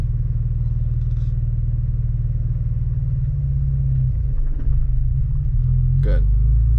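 A manual-transmission car's engine hums steadily and close by as a learner drives, holding a deep, even rumble with a few soft knocks and shifts in the cabin.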